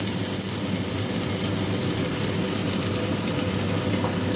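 Garlic and onion frying in oil in a pan for Filipino mung bean stew, a steady dense sizzle that runs unbroken and fairly loud from start to finish with no voices over it.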